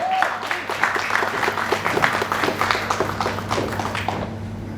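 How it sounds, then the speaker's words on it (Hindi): At a TV show launch event, an audience gives loud, sustained applause for actress Swati, many hands clapping densely and close with a faint voice and background hum underneath. "स्वाति जी के लिए एक बार जोरदार तालियां हो जाए."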